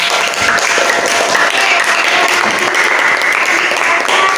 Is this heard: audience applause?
yes